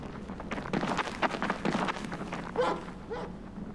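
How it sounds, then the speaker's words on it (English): A dog barks repeatedly in quick, close bursts, loud and clear with yips and a brief whimper mixed in, with no talk over it. "That's a dog. It's okay."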